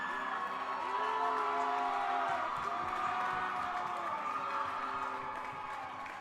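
Crowd cheering at a high school hockey D2 state final rink after a championship win, a sustained roar with whoops and scattered clapping, fairly distant and continuous throughout.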